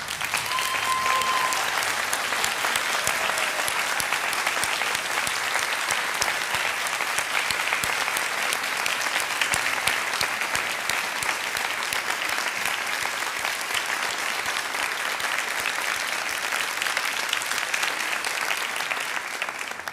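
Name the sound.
audience applauding at a graduation ceremony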